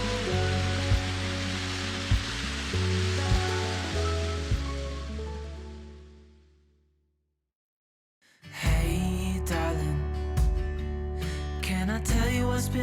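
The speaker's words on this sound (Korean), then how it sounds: "저 붉은 빛의 폭포가 바로 황금폭포입니다." The Golden Waterfall pours red, iron-rich mine water in a dense rushing roar. Background music plays over it, the roar fades to silence, then the music returns louder.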